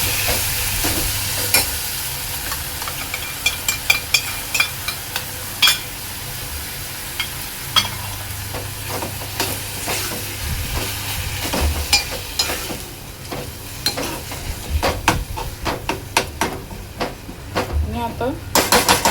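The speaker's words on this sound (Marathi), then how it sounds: "हे मिश्रण आपल्याला चांगलं मिक्स करून घ्यायचं आहे" An onion and tomato paste mixture is stirred in a hot pan, with a low bubbling sizzle under a steady run of spatula taps and scrapes that grow busier and more frequent toward the end.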